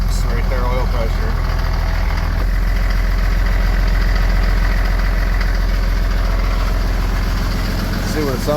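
Mercedes OM603 diesel engine swapped into a Ford Ranger idling with a loud, rhythmic low clatter throughout, steady and close, warming up before revs.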